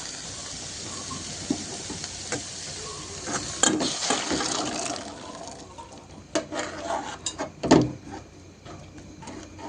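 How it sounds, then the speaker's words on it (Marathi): Boiled pigeon peas with their water poured into a pan of black masala, giving soft splashes, a hiss and a few louder sloshing bursts, fairly quiet overall. "आता आपण पाण्यासह आपल्याला याच्यामध्ये मसाल्यामध्ये ओतून घ्यायची तूर"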